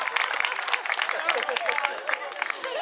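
An audience applauds a comedian at an open-air summer show, steady dense clapping with scattered louder claps, fairly close and continuous throughout.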